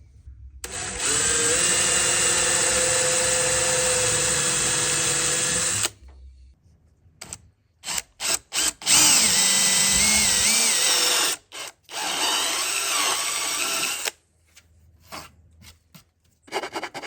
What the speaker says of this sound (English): then I drill from the front the rest of the time